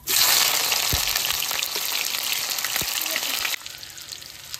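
Onions frying in a pan for a country chicken curry, a loud bright sizzle that starts abruptly, holds steady with a couple of soft knocks, then drops to a quieter hiss.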